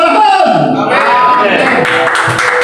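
Church congregation clapping together during a worship service at Pulogadung Trade Centre in Jakarta, steady dense claps under loud music with harmonic tones, continuous across the clip.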